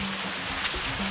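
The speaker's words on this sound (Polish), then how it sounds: "dzisiaj jest totalnie mokro. Pada" Rain falls steadily in a Madagascar forest, making a dense, even hiss with soft patter over about a second, heard alone.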